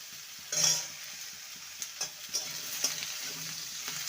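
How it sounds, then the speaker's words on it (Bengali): Ridge gourd and potato pieces fry in a pan for a Bengali poppy-seed dish, with a steady sizzle and several scraping stirs, one louder at the start. "ঝিঙেটাকে ভেজে নেব মিনিট দুই তিনে"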